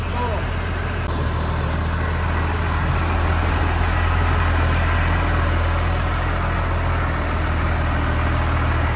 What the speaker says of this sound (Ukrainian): Трактор 127 кінських сил по паспорту